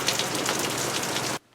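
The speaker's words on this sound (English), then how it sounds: "We're getting an afternoon rainstorm" An afternoon rainstorm pours down in a dense, steady hiss of drops hitting surfaces close by, cutting off abruptly after about a second and a half.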